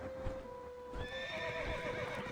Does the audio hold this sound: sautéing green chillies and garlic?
no